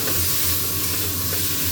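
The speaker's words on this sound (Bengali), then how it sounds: "খুব ভালো করে ভাজতে হবে" Food fries in a pan with a dense, steady sizzle and hiss that stays loud and close throughout, no voices.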